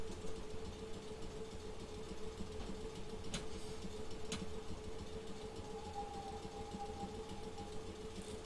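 Simulated FCC Class 319 electric multiple unit pulling into a station on the Midland Main Line in Train Simulator 2016, a steady low traction hum and rumble with a couple of brief sharp clanks and a rising whine near the end.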